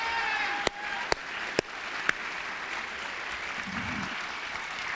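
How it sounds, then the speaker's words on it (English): Audience applause at a Martin Luther King Jr. Day commemoration at Queens College, a steady wash of clapping from a crowded hall with a few sharp louder claps standing out near the start, continuing evenly to the end. "Another round of applause, Arva Rice"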